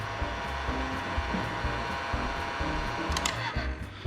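Close, steady whir of a heat gun blowing during primary work on a 1979 Harley-Davidson XLH 1000, a continuous fan hum with faint clicks toward the end.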